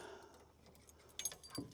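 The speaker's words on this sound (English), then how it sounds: "Keys, ignition keys." Ignition keys for a vintage Camaro jangle close by in a quiet room, with a few small metallic clinks and rattles in the second half.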